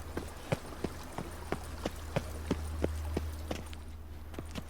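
A horse gallops in The Witcher 3 video game, hooves drumming in a steady, even rhythm of about three beats per second, moderately close over a constant low rumble.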